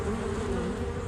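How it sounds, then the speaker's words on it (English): A swarm of bees gives off a dense, steady buzzing drone, close and continuous with a slightly wavering pitch and no other sounds. "Warm, sunny days, especially after rain showers, can trigger swarming insects like bees to head out and start a new colony"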